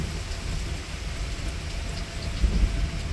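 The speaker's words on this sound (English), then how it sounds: "That's going to be loud thunder." Heavy rain pours steadily through a thunderstorm with frequent nearby lightning, a dense continuous hiss with a low rumble of thunder swelling near the end.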